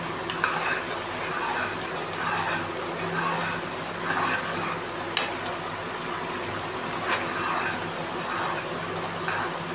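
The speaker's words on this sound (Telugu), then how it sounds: "వన్ టేబుల్ స్పూన్ పచ్చి ధనియాల పొడి, ఇప్పుడు కలుపుకోవాలి." A spoon stirs coriander powder into a simmering paneer masala curry, giving rhythmic scraping strokes about once a second over a steady soft sizzle, with a couple of sharp clinks against the pan.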